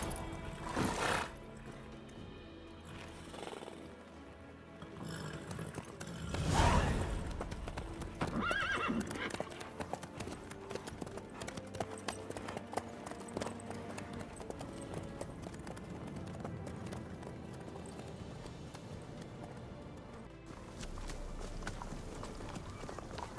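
Horse hooves clip-clopping with loud neighing in The Witcher 3 video game, steady hoofbeats running throughout, a sharp whinny early on, and a voice speaking briefly over the riding.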